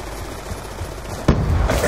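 Gunfire in the Call of Duty video game, a dense rattle of shots under steady game noise, with a sharper, louder burst near the end of the short clip.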